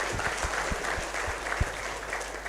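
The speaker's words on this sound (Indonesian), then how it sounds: "ya tepuk tangan untuk temanmu" A short burst of applause from a small group at a food policy outreach event, quick scattered claps filling a few seconds.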